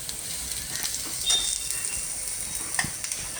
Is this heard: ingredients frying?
yes